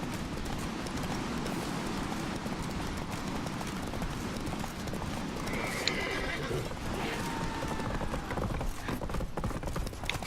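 Roach, the horse in The Witcher 3 video game, gallops with continuous rapid hoofbeats and lets out a whinny partway through, all over busy game ambience.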